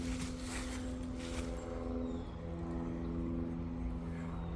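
A plane flies overhead near a dense forest trail, a steady low droning roar that fills the whole stretch with a continuous hum and no other distinct sounds above it.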